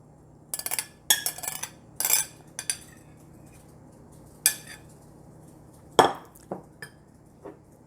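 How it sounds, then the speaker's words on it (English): A spoon mixing flour and baking powder in a bowl makes a handful of separate clinks and scrapes against the dish in short, irregular bursts over a quiet background. "Just take a spoon and mix the flour, the baking powder together."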